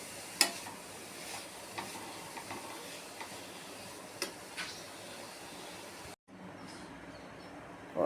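Vegetables with pepper powder, chilli powder, garam masala and salt sautéing in a pan, giving a faint steady sizzle broken by occasional scrapes and ticks of stirring, with a short gap near the end and no talking.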